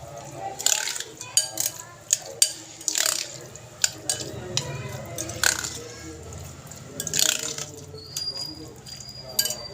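A spoon stirs yogurt raita into egg filling in a bowl, making irregular clinks, taps and wet scraping sounds, close and moderately loud, while someone speaks at intervals.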